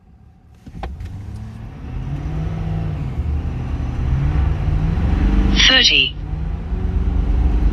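A 2024 Ford F450 pickup with a 10-speed transmission and 3.31 axle ratio accelerates hard to 60 mph, its engine droning steadily louder through the run while someone talks over it inside the cab.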